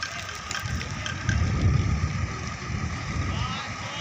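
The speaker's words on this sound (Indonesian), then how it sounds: "sudah menyala mesinnya" A bus engine idles with a steady low rumble, loudest at close range, while a voice talks over it and wind buffets the microphone.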